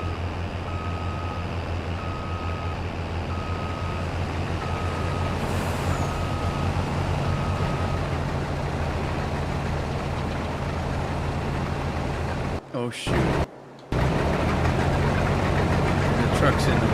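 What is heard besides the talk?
truck engine in the Farming Simulator 22 video game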